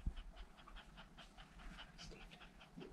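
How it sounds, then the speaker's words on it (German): American Collie puppies pant in the heat, a steady rapid rhythm of soft breathy huffs close by, continuing without pause and without talking. "Viel warm, alle hecheln."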